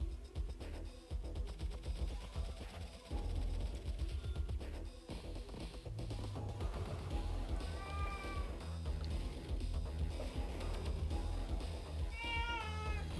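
A pet cat meows twice indoors, short rising calls heard faintly under busy game music and sound effects.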